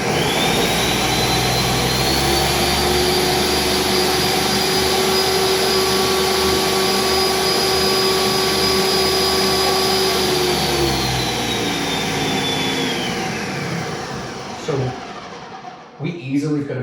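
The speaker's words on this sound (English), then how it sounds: "We easily could have just given this a couple of quick pulses to mix the egg in" A blender whirs steadily for about fourteen seconds, loud and continuous, mixing eggnog made with egg and whipping cream, then winds down and stops near the end.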